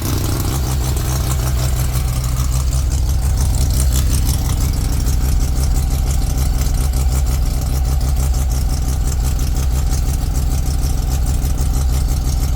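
A freshly installed turbo Mazda RX-7 rotary engine idles at high revs on its first startup, a loud steady buzzing drone with a fast rhythmic pulse, exhaust leaking near the probe ports, no talk.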